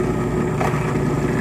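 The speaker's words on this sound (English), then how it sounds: "hopefully you can hear me over the drill press" A drill press runs in a home shop, a steady low motor hum and drone, close and loud, constant throughout with no talking.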